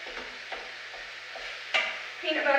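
Crumbles frying in a pan crackle softly while a utensil stirs them in steady, repeated scrapes, with a louder scrape and sizzle toward the end.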